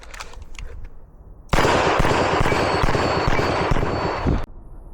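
Rapid pistol shots from a Shadow 2 or DWX during a shooting drill, a dense string of loud, sharp cracks fired in quick succession for about three seconds, then stopping abruptly.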